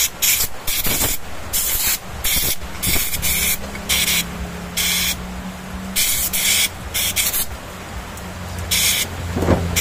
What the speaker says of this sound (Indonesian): Jangan lupa kita semprot.